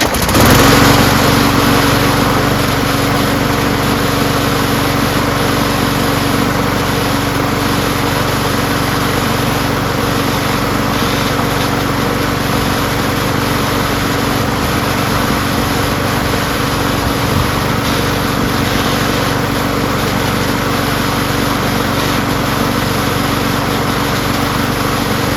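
A push lawn mower's small gasoline engine runs steadily at close range, a loud continuous drone with a high whine and an irritating extra noise, holding even from start to finish with no talk.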